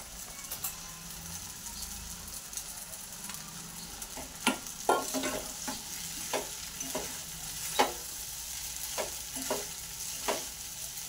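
Soaked sabudana mixed with crushed peanuts is added to a pan for khichdi and stirred, giving a quiet continuous sizzle broken by repeated spoon scrapes and knocks against the pan, with no voices.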